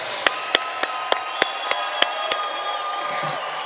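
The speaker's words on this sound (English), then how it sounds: "Let's give everyone a round of applause." At a university commencement ceremony, sharp, evenly spaced claps ring out in a steady rhythm close by, over a softer wash of crowd applause and murmur.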